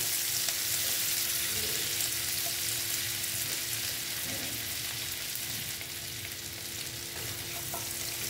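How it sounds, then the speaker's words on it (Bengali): Chopped tomato frying in a pan, giving a continuous close hiss and sizzle with soft stirring sounds. "দিয়ে এটাকে আমি আর একটু ভালো মতন ভেজে নেব"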